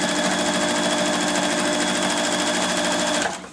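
A sewing machine stitching down a fabric edge on a patchwork cosmetic bag: a loud, steady, fast mechanical whir that runs continuously and then stops abruptly near the end.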